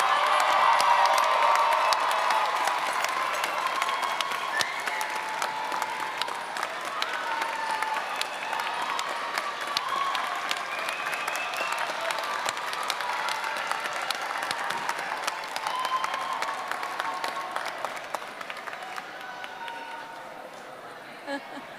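Commencement crowd of graduates applauding and cheering for their supporters, a dense, steady wash of clapping with shouts mixed in that carries on for about twenty seconds, slowly thinning toward the end.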